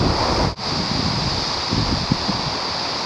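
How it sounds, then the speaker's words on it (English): Heavy rain falls outdoors in the mountains beside a creek, a dense, steady hiss that fills the whole stretch with one brief dip early on and no voices. "The rain is slowly getting heavier."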